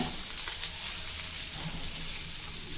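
Garlic sautéing in a pan for cabbage chutney, a low, even sizzle with occasional faint crackles and stirs, fairly quiet and without speech.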